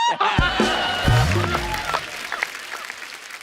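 A short burst of clapping and crowd noise rises quickly and then fades, with some voices mixed in.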